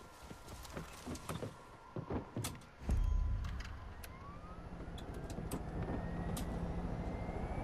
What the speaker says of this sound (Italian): Eccolo, l'elicottero.